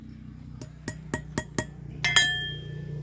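A 1990s toy gets a part driven in with a hammer: five sharp, evenly spaced metallic taps close by, followed by a brighter ringing clink that lingers.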